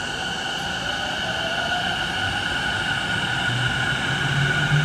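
A blue Sotetsu commuter train at Hazawa Yokohama-Kokudai Station rumbles and hums steadily, its motor whine holding a constant pitch with no voices.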